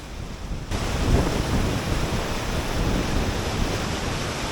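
Rushing glacier river in the Himalaya during an afternoon crossing, a steady broadband roar of fast meltwater close by, loud and continuous with no voices.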